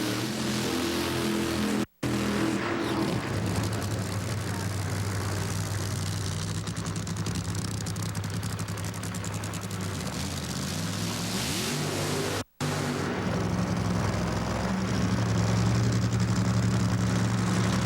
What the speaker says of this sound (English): So the burnouts are complete.